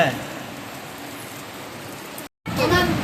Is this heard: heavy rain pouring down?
yes